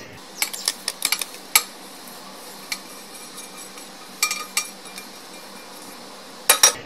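Roasted poha is scraped from a pan into a bowl in a home kitchen, giving a series of sharp metallic clinks and scrapes, clustered in bursts with short pauses between them.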